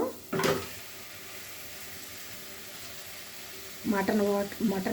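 Mutton fries in a pan for gongura curry, giving a steady, soft sizzle, while someone speaks briefly at the start and end.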